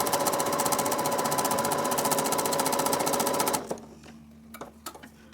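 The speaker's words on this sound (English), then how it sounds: "When I'm sewing in a straight line, keeping my fabric right on the edge of my 1/4 inch foot" A sewing machine with a quarter-inch foot runs fast and steady for about three and a half seconds, stitching quilt fabric in a straight line, then stops, leaving faint clicks and handling sounds.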